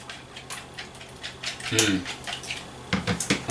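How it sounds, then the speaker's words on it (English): A spoon scraping and clinking against a bowl while stirring a cinnamon mixture, a series of short irregular knocks and scrapes close by, fairly quiet, with a louder rattle near the middle. "And I just want to give this another stir, mix all that in."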